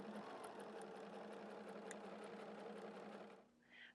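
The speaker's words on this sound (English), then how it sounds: "So we're just going to sew a hair to the right of that line." A sewing machine stitches quilt fabric for a star-pattern quilt block in a steady, fast run of needle strokes, close and continuous, then slows and stops near the end.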